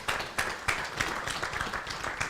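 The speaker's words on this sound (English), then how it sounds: "Let's give Jimmy a round of applause." An audience at an agricultural symposium in Uganda gives a round of applause, with steady, fairly soft clapping from many hands that holds at an even level for a couple of seconds.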